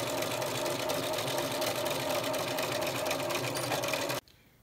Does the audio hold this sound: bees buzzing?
no